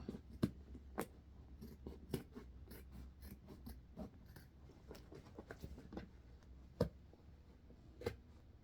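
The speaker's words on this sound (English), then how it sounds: "it was hard for my scissors to go through" Quiet snipping and crunching of scissors working through stiff fabric binding, irregular cuts with soft rustling between them, close up, no talking.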